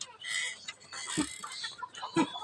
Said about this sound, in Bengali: মুরগিটি অবশ্যই এসে ডিস্টার্ব করলো কবুতরগুলো